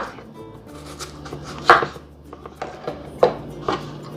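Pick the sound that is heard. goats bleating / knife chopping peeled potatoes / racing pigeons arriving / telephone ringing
knife chopping peeled potatoes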